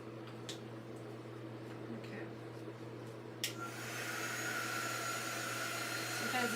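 A hair dryer blowing on a Dollar Tree DIY craft switches on partway through with a steady, loud whooshing roar over a low background hum, following a few quiet clicks.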